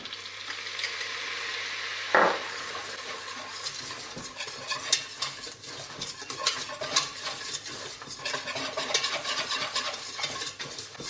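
Butter sizzling in a copper pan, a steady close frying hiss with a sharp clink early on followed by repeated scraping and stirring sounds throughout.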